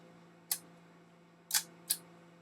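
Three crisp shutter clicks from a Braun Gloriette camera close by, one alone and then a quick pair, over a faint steady hum.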